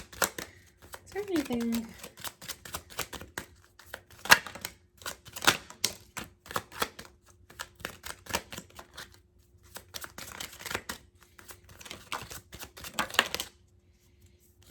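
A Kipper fortune-telling deck being shuffled and cards drawn: a long run of quick papery clicks and flutters in close bursts, with a brief voice speaking near the start.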